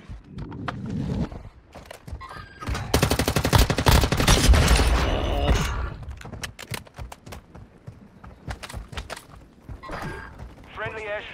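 Gunfire in the mobile shooter Warzone Mobile, with a dense burst of rapid shots in the middle followed by scattered single shots, while players talk over the game sounds.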